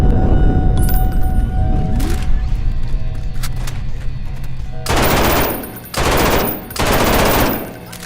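Automatic gunfire in the video game Garry's Mod, with bursts of rapid shots, the last three long and loud, over a steady game background.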